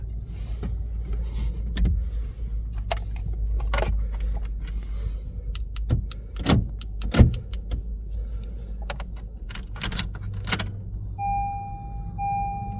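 Several sharp clicks and clunks from a Honda HR-V sound at intervals, like locks actuating in response to the key fob, followed by a brief electronic beep near the end.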